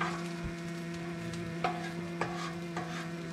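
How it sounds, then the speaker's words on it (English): Hash browns frying in a pan outdoors at a Thanksgiving camp gathering, with a steady sizzle and a few sharp scraping clinks of a utensil stirring the potatoes. "Mixing up the potatoes, the hash browns, I mean."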